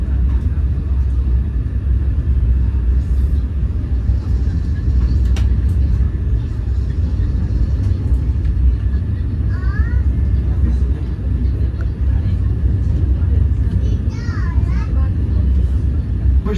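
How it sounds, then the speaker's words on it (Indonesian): Ranggajati passenger train departing Surabaya Gubeng station, a constant low rumble and rolling hum heard from on board, with faint squeals and brief tones over the steady drone. "Jam 16:58 kereta api Ranggajati diberangkatkan tepat dari stasiun Surabaya Gubeng."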